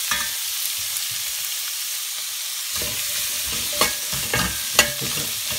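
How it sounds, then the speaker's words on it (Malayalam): Onions sautéing in a pan with a little salt for paneer masala: a steady close sizzle that grows busier after a few seconds, with a couple of sharp scrapes from stirring and no talking. "നമുക്ക് വഴറ്റി എടുക്കണം, ഇത്തിരി സമയമെടുക്കും."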